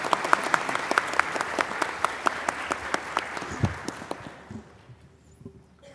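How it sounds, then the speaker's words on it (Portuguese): A crowd applauds with dense, steady clapping that gradually thins out and fades to near silence over several seconds. "peço uma salva de palmas para a secretária"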